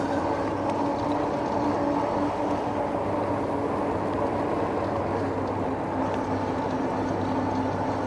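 A Haoqi Cheetah dual-battery full-suspension e-bike cruises along a trail at about 16 mph in pedal assist 3, seventh gear, giving a steady, even drone of motor, tires and wind with no talking.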